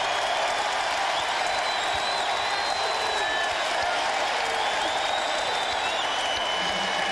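Roaring basketball arena crowd at a 2001 Charlotte Hornets playoff game against the Bucks, dense continuous cheering and clapping with whistles, loud and unbroken throughout.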